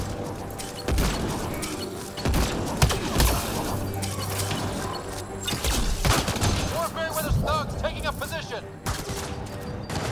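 Rapid gunfire bursts from the video game Mass Effect Andromeda, dense and continuous with sharp impacts, mixed with game effects and voices talking over the shooting.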